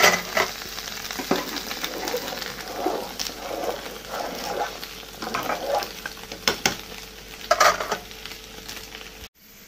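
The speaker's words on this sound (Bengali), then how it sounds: "সামান্য একটু জিরার গুঁড়া আর ধনিয়ার গুঁড়া আর সামান্য একটু মরিচের গুঁড়া দিয়ে দেবো।" Taro curry fries in a pan as cumin, coriander and chili powder are stirred in, producing close sizzling with repeated scraping stirs and clatter that fades briefly near the end.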